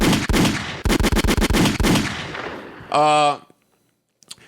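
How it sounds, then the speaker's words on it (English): Gunshot sound effects played on a podcast, a loud, close burst of rapid shots followed by a short electronic buzzing tone, then near silence. "Low gunshots for the fans."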